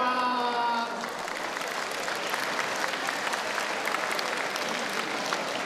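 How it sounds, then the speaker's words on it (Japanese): Audience applause and rhythmic clapping fill a packed hall at a Japan Self-Defense Forces band concert, steady and dense throughout, with a brief lingering musical tone at the start. "満員の会場には手拍子や拍手が響き"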